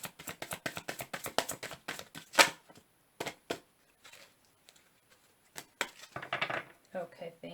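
A tarot card deck is shuffled in rapid bursts of crisp riffling clicks and taps, followed by scattered softer card handling sounds after a pause, close and fairly quiet.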